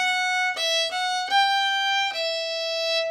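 A violin plays a short phrase of a Swedish folk tune in bright, sustained bowed notes, a few changes of pitch and bow stroke, close and clear without accompaniment.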